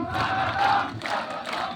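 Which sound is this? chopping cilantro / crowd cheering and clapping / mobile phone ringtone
crowd cheering and clapping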